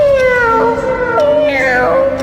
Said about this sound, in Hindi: भाई बिल्ली वो फिर आ गई।